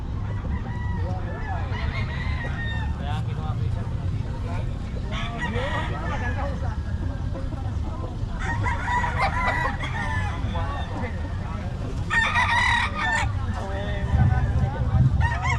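Many chickens at a poultry market in Bocaue cluck and crow continuously, with a rooster crowing repeatedly and some honking fowl, under steady vendor and customer talk.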